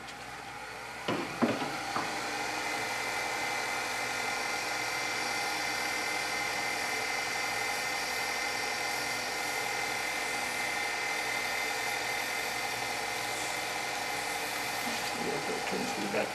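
A wood lathe spins a turned Christmas ornament globe with a steady, continuous whirring drone at moderate level, and a few brief knocks near the start.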